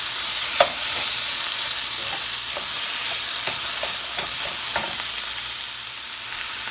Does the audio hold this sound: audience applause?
no